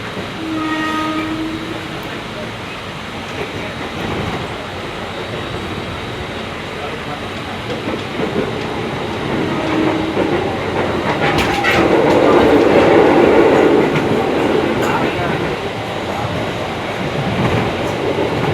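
A KRL commuter train rides toward Cisauk station, a loud continuous rumble of wheels on rails with rhythmic clatter swelling as it nears, a brief horn-like tone early on, and people talking over it.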